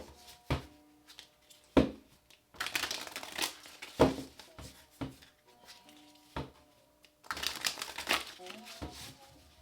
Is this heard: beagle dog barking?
no